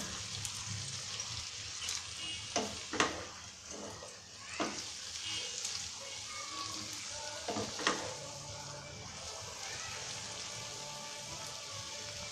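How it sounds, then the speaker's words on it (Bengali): Fried pointed gourd being stirred in a pan with tomato and onion, a steady low sizzle with a few sharp utensil scrapes and knocks scattered through, close and fairly quiet, no talking. "পটলটাকে এবার টমেটো ও পেঁয়াজের সাথে ভালো করে মিশিয়ে দিই।"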